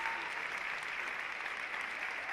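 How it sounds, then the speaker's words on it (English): Crowd applause from the arena audience at a senior figure skating Grand Prix men's short program in Sheffield, a steady, dense wash of clapping that holds evenly throughout. "wonderful to hear the reaction from the crowd"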